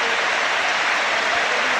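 A 38,000-strong football stadium crowd gives a standing ovation to a player leaving the pitch, a loud, steady wash of applause and cheering that fills the whole moment without a break.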